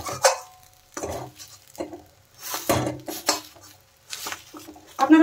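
Fried egg being cut through the middle in a frying pan (kadai), with a utensil scraping and tapping against the metal in several separate bursts, close and fairly loud, without talk.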